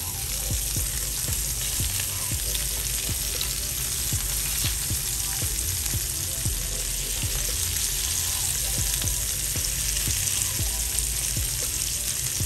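Homemade hamburger steaks sizzle and fry loudly in a hot pan just after being flipped, a dense continuous crackle with scattered pops and occasional utensil scrapes, close up and free of talk.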